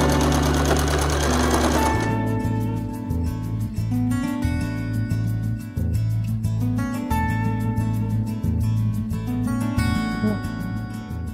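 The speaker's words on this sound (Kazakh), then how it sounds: "Бұл жерін тегістеп тағы да машинкамен тігіп шығамыз." A sewing machine stitches fabric for a turban, its motor running in a steady, close rhythm of rapid needle strokes with brief pauses and restarts.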